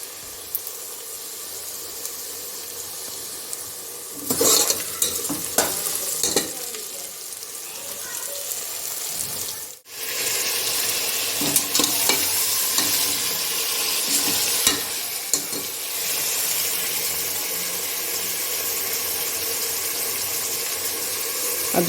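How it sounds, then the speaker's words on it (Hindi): Chicken kadhai with garlic, ginger and tomato paste sizzles and fries in a pan while a spoon stirs and scrapes through it, with steady close frying hiss, bursts of stirring clatter and some talking. "आज गेस्ट आ रहे हैं तो इस वजह से मैं उनके लिए चिकन कढ़ाई बनाने लगी हूँ"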